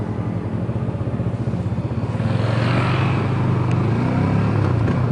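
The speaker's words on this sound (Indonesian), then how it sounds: "Jadi ya gue bisa maju motor di RPM tinggi." A motorcycle engine revs high and loud while being ridden at high RPM, its steady roar building and holding a strong, buzzing drone throughout.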